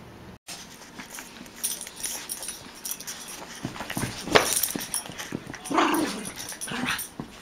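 Two dogs play together with teeth bared, letting out dense bursts of growly play noises, whimpers and short yips, fairly close and lively throughout.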